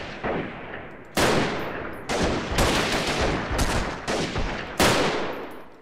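Pistol gunfire in a PC shooter game, Freeman Guerrilla Warfare, rings out as a series of loud, sharp shots at irregular intervals, each with a decaying echo tail, close and dominant.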